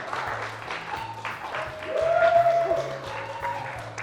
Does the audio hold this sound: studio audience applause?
yes